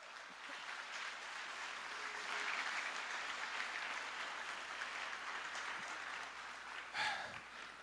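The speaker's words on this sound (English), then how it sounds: "Let's give them one more big round of applause." Audience at a middle and high school spring choir concert applauds students of the Vox choir, a steady wash of clapping from a large crowd that swells midway and continues for several seconds.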